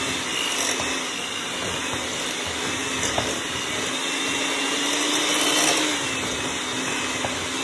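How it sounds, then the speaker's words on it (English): An electric mixer creams spice cake batter with a continuous droning whir and a steady motor hum, close and unbroken except for a faint knock or two. "Just creaming all that together really well."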